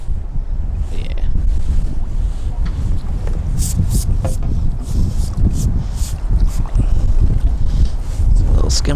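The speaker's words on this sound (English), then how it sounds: "Very windy, blowing it out, net out my hand." Strong wind buffets the microphone while fishing from a bank with a cage feeder, a loud continuous low roar with gusts that swell and ease, faint water and movement beneath.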